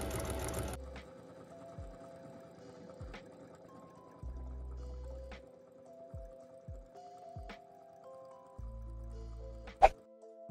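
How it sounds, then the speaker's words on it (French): A domestic sewing machine runs a zigzag stitch on jacket fabric in short steady bursts separated by pauses, with a sharp click near the end. "On met sur la machine un point zigzag et c'est parti."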